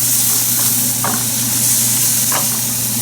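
Ground meat sizzling steadily in oil in a pan for shell pasta, a loud continuous frying hiss with a low hum and two brief scraping stirs.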